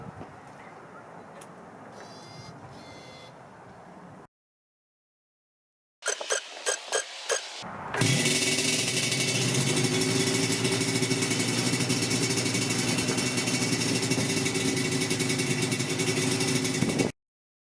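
A Yamaha RZ350 two-stroke motorcycle coughs through a few short cranking bursts after a head gasket replacement, then catches and settles into a loud, steady, raspy idle that runs on unbroken until it cuts off.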